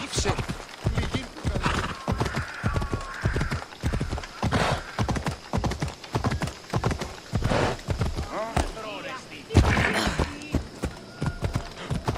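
A horse gallops in Assassin's Creed Odyssey with rhythmic, close hoof clip-clops in quick repeated beats. It neighs midway, and a voice briefly cuts in.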